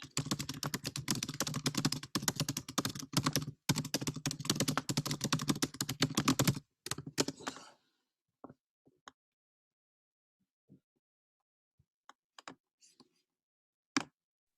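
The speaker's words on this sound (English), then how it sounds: "when you're typing, it's quite loud. Okay. So it's just like pounding keys." Fast, hard typing on a computer keyboard, a dense close run of loud key strikes for several seconds, then scattered single clicks in near silence.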